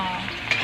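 Fish heads frying in a pan of hot oil, giving a steady close sizzle with a brief flare of crackle, with no talking.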